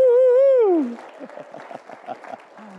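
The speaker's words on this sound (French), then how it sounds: "On peut donner une bonne main d'applaudissement à Jésus." A congregation at a large religious gathering breaks into applause after a loud, sustained vocal cheer, the clapping softer and more scattered with faint voices mixed in.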